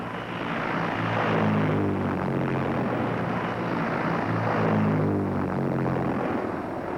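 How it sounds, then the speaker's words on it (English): A WWII propeller plane passes overhead on a strafing raid, its steady engine drone swelling twice as the aircraft draws near, with a broad continuous roar filling the whole stretch and no voices. "Airplanes come in from all directions, meet exactly as planned."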